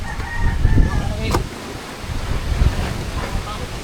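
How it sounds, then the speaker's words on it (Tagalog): Strong storm wind gusts across a microphone outdoors at a house in Nasugbu, producing low rumbling buffets that swell and fade, with a rooster crowing faintly in the background. "Lakas ng hangin, no?"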